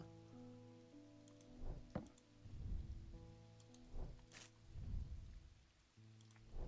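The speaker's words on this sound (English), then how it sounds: "It is raining" Rain falls steadily in the video game Strange Antiquities, a soft, faint patter heard alone under a sustained droning music bed, with a few brief louder bursts like distant rumbles.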